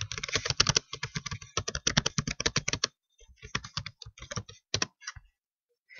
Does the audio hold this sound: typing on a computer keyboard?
yes